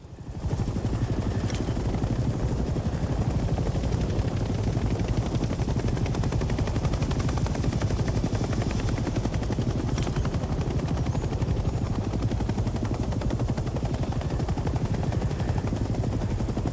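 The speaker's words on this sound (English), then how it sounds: "Now airborne, let's get familiar with the three primary helicopter rotations: pitch, roll, and yaw." A helicopter flies in the Vietnam-era game Hell Let Loose: Vietnam, with a loud, continuous rotor chop and engine drone that stays close and steady throughout, with no voices.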